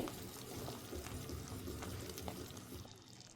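Sugar syrup for sakkare acchu boils in a pan on the stove, giving a dense continuous bubbling and seething hiss, fairly quiet and steady, with no one talking.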